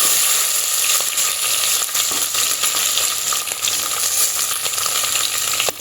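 Onions go into hot oil already holding dried red chillies, chana dal and urad dal, setting off a loud, steady, close sizzle that crackles without a break for several seconds.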